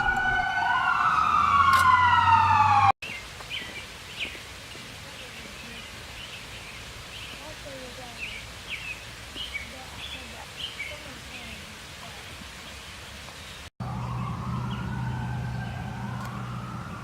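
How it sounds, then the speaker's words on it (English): Wailing emergency sirens rise and fall at the start and end, fairly loud, with a quieter stretch of outdoor garden ambience by a pond and faint chirps between, at the Mid America Windmill Museum. "Sorry about the sirens."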